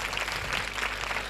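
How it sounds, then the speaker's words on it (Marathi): A school audience claps for a guest, the English textbook board member from Pune, heard as a brief, fairly soft patter of applause with no voices over it. "जोरदार सरांसाठी टाळ्या होत्या"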